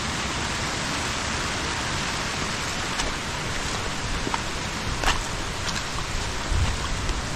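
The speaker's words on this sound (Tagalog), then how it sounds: "Yan ang ulan" Heavy rain pours steadily during Typhoon Uwan, a dense continuous roar with scattered louder drops and bursts of wind, no voices.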